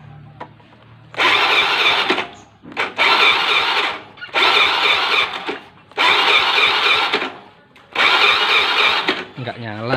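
A Honda Beat FI scooter engine, its fuel injector just cleaned, is cranked by the starter about five times without catching. Each whirring burst lasts over a second, with short pauses between them, and all are close and loud.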